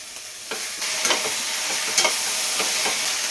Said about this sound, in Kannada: ಸೊ ಈಗ ಕ್ಯಾಪ್ಸಿಕಮ್ ಹಾಕಿ ಫ್ರೈ ಮಾಡ್ಕೊಂಡಿದ್ದೀನಿ ಸ್ವಲ್ಪ ಹೊತ್ತು.